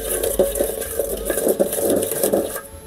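A spoon stirs popcorn kernels and a little oil in a pot, making quick, repeated metallic scrapes and clinks in a steady rhythm, up close and fairly loud.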